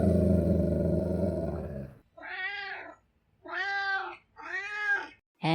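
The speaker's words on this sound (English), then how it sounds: "with the meows of a Meowky Meow" A low rumbling hum cuts off, then a cat meows three times in drawn-out, wavering calls, close and clear, with a short one starting at the end.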